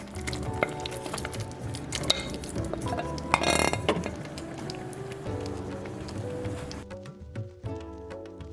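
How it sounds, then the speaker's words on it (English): Coconut garlic cream sauce bubbles and sizzles steadily in a pan as shrimp go in, with a few clinks and stirring noises before the sound drops away near the end. "So now that our sauce is nice and bubbly, I'm going to add my shrimp back in"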